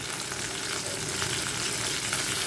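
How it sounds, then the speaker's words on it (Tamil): Crab pieces frying in hot oil in a kadai, giving a steady, dense sizzle that holds loud and close throughout with no talking. "கடாயில் வந்து எண்ணெய் போட்டிருக்கேன் நண்டை வந்து ஃப்ரை பண்ணி எடுத்துக்கலாம்"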